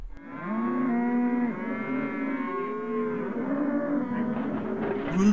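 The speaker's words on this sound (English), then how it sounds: "The cow is saying," Close and loud, a single cow lows in one long continuous moo stretching over five seconds, its pitch bending and sliding throughout, with nothing else heard.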